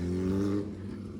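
Kawasaki ZX10R motorcycle fitted with an Arrow full exhaust system, a loud, deep, steady engine drone close by with strong low harmonics that eases down slightly halfway through, no talking.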